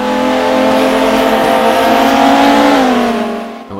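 A Viper race car in the rFactor racing game revs hard and steadily toward its rev limit, a loud sustained engine whine that holds its pitch, then eases and drops away near the end.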